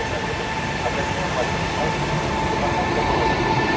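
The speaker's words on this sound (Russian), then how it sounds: "прибывает поезд 28-й, Москва-Симферополь, двухэтажный" A double-decker Moscow–Simferopol passenger train arriving at a station, a steady loud rumbling roar that holds evenly throughout.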